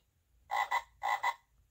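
A frog croaks as a sound effect in a read-aloud children's story book, two loud, close double-pulsed croaks with a short pause between them and no talk.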